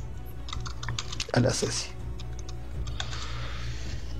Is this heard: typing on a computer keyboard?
yes